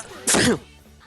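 One quick, loud sneeze bursts out during a fighting game tournament stream, then fades into quiet background sound.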